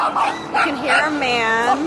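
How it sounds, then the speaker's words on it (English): A dog barks and whimpers in short yips on a downtown Montreal street, close and clear, mixed in with someone talking over it. "aside from the barking"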